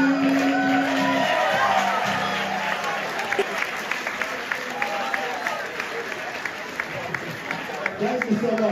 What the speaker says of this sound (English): You never had that kind of applause.